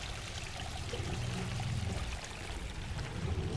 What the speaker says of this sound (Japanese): この水の音が気持ちいいですね。